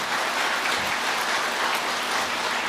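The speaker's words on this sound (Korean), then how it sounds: "박수 쳐봐" An audience at a Buddhist monk's lecture breaks into applause, a steady, dense crackle of many hands clapping together, fairly loud and even from start to finish, with no speech over it.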